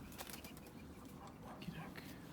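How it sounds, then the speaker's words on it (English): Several birds flapping their wings in a disused builders yard, a quick faint burst of wingbeats against quiet outdoor background. "I believe there's a few birds right there."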